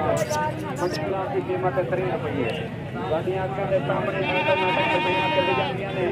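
Goats bleating on a goat farm, several calls rising over a steady murmur of people talking nearby throughout.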